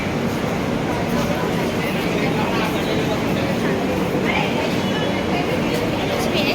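A Lonavala to Hubli train rumbles steadily close by, a continuous loud roar of wheels and carriages with a faint metallic rattle running throughout.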